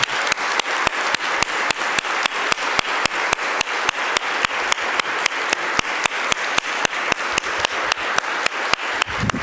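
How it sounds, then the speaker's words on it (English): Audience at an awards ceremony claps steadily and loudly for the recipients, a dense sustained applause with a regular pulse running the whole length, no talk over it. "Can we really clap loud?"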